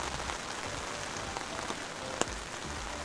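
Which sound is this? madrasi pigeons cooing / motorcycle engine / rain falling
rain falling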